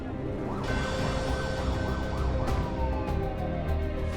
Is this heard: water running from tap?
no